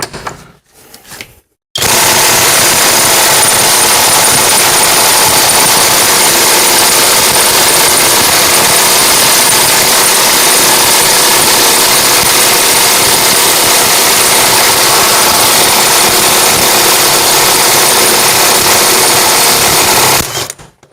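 A LUDYVI BL2000 cordless impact wrench is loud and close during a torque test, running in a steady, harsh, continuous whir for about eighteen seconds after a couple of short bursts at the start, and then it stops.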